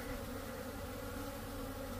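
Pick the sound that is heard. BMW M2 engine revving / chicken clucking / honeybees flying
honeybees flying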